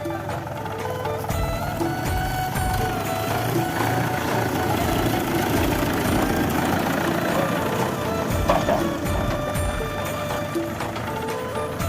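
A farm tractor engine runs steadily on a field for a first driving attempt, a continuous rumbling idle with faint ticking, moderately close, with occasional background voices.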